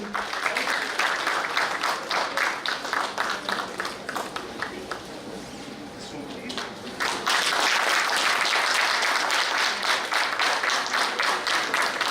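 Audience applause at a medical college lab inauguration, a crowd of many hands clapping steadily; it thins and softens midway, then swells back to full, even strength for the rest.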